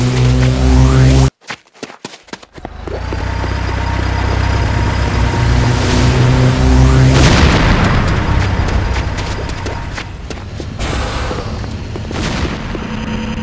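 A base building blows up in a real-time strategy game, a loud booming blast that dies into a long rumbling roar of debris and explosions mixed with game effects, with no talk.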